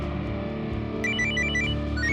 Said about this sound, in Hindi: अरे फोन किसका?